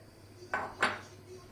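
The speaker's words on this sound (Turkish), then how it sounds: "Daha sonra şöyle bir kase nohutumu koyuyorum." Chickpeas from a bowl go into a pot of sour meatball stew, producing two quick clinking knocks of bowl against pot, close and fairly soft against a quiet kitchen.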